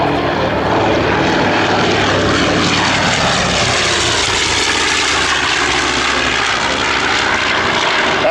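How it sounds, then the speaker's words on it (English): B-25J bomber flying past at a World War II weekend airshow, a loud, broad propeller-engine roar that swells and holds throughout as the plane passes. "And here comes the B-25J."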